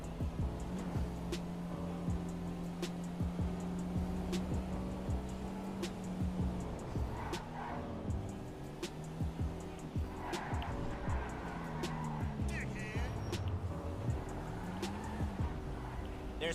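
A car drives in the video game GTA Online: a low engine hum runs throughout with scattered brief tire squeals and clicks, fairly quiet overall.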